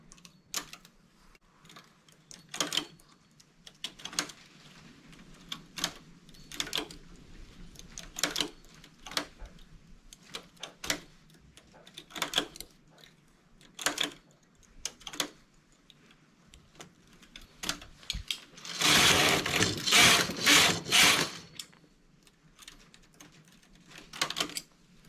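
A knitting machine's carriage clatters along in a steady series of sharp, regular mechanical ticks, building near the end into a louder, denser burst of rattling, with no voices.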